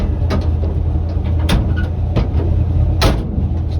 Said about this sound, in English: Closing my door yet again.